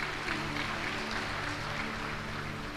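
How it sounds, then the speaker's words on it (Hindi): An audience claps at a spiritual discourse on Lord Krishna and cows, a steady, dense wash of applause with a faint low hum underneath throughout. "ये टप टप ताली बजाने से कुछ नहीं होगा"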